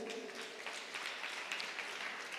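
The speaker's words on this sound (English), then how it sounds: "I wish you could clap for them" An audience at national debate championship finals claps for the competing school teams, a steady, moderately faint patter of applause with no voices standing out.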